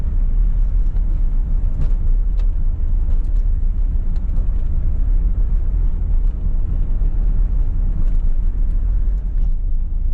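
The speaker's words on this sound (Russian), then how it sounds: "Вот так производится чистка снега на тротуарах механизированным путем." A mechanized snow-clearing machine working a city sidewalk gives a continuous low engine rumble, steady and moderately loud throughout, with no talk.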